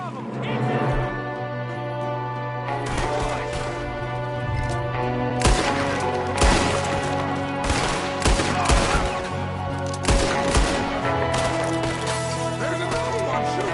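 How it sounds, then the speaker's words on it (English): Red Dead Redemption 2 shootout with repeated close gunshots cracking over a steady ambient hum, some in quick clusters and others spaced apart, while voices shout and talk throughout. "There's another one shooting from the window"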